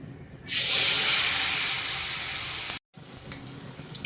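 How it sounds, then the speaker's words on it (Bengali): A loud, steady sizzle as jute-leaf fritters fry in smoking-hot oil bursts in, holds, then cuts out briefly before continuing more quietly. "তেল গরম হয়ে গেছে ধোঁয়া উঠছে এবারে আমি তেলে ছেড়ে দেবো"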